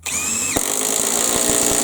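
A Bosch impact driver drives a screw into wood with no pre-drilled hole at top speed. A steady high motor whine is joined midway by a rapid, loud hammering as the impact mechanism kicks in.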